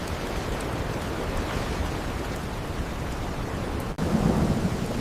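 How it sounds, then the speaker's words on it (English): Heavy tropical rain roars steadily in a jungle thunderstorm, with a sudden sharp crack and a lower rumble of thunder near the end. "Strongest storm yet."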